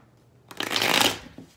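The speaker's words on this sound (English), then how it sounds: "Let's do one more shuffle." A deck of tarot cards riffled in one quick shuffle, a short close burst of crisp papery fluttering that rises and fades within about a second.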